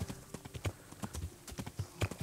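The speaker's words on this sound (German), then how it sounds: "Hier kann man einfach überall so querfeld ein über die Wiesen reiten, ne?" Horse hooves clip-clop at a steady gait as a rider crosses open meadows in the video game Kingdom Come: Deliverance, quiet and fairly even, with no talk over them.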